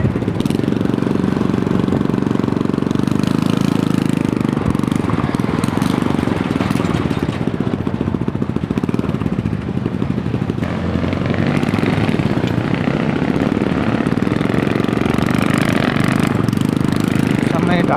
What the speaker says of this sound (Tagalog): Ito na po si Super Batman, nag-ride ng motor, nag-drive